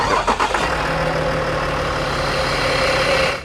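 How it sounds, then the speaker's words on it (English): A wrecked Range Rover Sport engine runs at a steady, loud idle after a brief rough start, close up and without voices. "It does start, and it drives."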